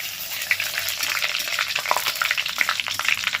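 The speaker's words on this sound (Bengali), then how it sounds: "দিচ্ছি গোটা জিরে তো ভালো করে ভেজে নেবে" Whole cumin seeds crackle in hot oil alongside cardamom, cinnamon and bay leaves as the base for a banana-flower ghonto. A steady, close sizzle with dense little pops runs throughout, with no talking.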